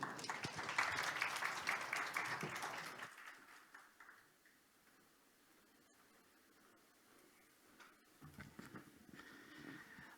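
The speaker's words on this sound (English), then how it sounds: "A big round of applause, please, ladies and gentlemen." Audience applause at a functional medicine symposium, a dense wash of clapping for about three seconds that thins into scattered claps and room noise before picking up briefly again at the end.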